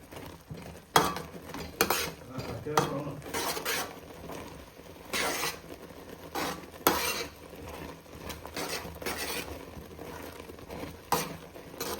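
Thick payasam with nuts and raisins bubbles in a pot while a metal ladle stirs it, making repeated clattering scrapes and knocks against the vessel over a low simmer, close and fairly loud.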